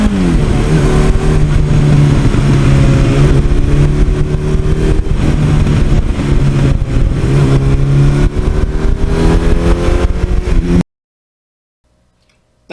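A 1982 Suzuki GS1100E motorcycle engine runs while being ridden, with a steady loud drone and shifting tones as the revs change. The engine cuts out abruptly near the end, leaving silence.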